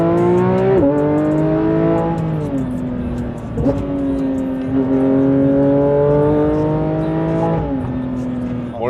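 Porsche GT3 sports car heard from inside as it drives through curves, engine note climbing through the gears with several upshifts, sustained and loud throughout.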